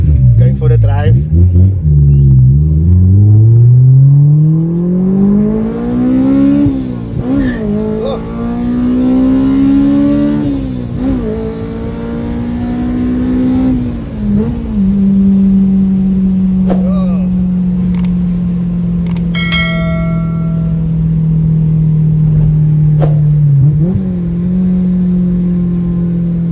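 Honda Civic engine revving up through the gears as the car accelerates, a loud steady drone rising in pitch with gear changes, continuous and close, with people talking over it.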